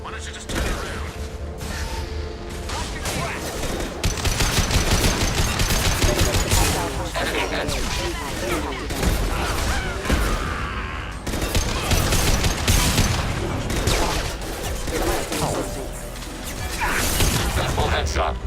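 Dense gunfire and explosive crashes from the video game Mass Effect 2 rattle continuously, loud and layered with mechanical clanks, while voices talk over the combat.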